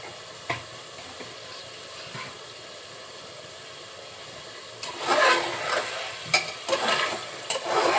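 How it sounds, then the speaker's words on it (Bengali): Beef stir-fries in a pot with spices, including nutmeg and mace, starting as a faint background hiss and then swelling into louder sizzling with several stirring scrapes and clanks near the end, with no talk. "কিছুক্ষণ মাংসটা কষিয়ে নেব"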